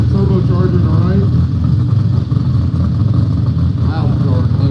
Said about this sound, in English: Loud car in the left lane.